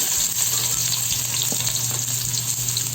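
Ginger frying in a pan for fish tinola, a close, steady sizzle of hot oil with a few light scrapes of stirring, no voices.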